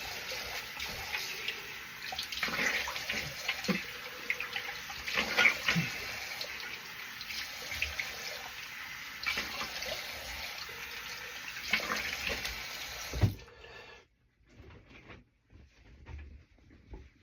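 Water runs steadily from a tap while someone rinses off after a wet shave, a close, even splashing stream with shifting sloshes from hands in the water, then it shuts off abruptly, leaving faint drips.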